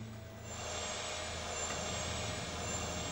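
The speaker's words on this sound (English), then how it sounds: "Those engines sure ain't at full power." Recorded aircraft jet engines run below full power during takeoff, a continuous broadband roar with a low steady hum, faint and muffled as if from a cockpit recording, with no voices.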